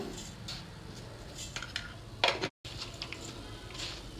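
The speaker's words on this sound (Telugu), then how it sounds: "ఇదంతా బాగా కలిపేసుకుందాము" Spoon stirring sorghum flour batter with oil and sugar in a bowl, quiet repeated scraping and soft clinks against the dish, with one sharper knock midway.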